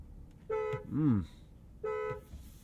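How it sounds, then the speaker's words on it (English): Bentley Bentayga Speed Edition 12 car horn giving two short, clear honks a little over a second apart, close and loud, with a low murmur of speech between them. "Let's kick things off with the world-famous horn test."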